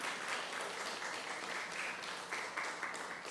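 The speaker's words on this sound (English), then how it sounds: "Another round of applause for Mike Etkin" At a story night, the audience gives a round of applause. Distant clapping patters on evenly for a few seconds at a fairly low level.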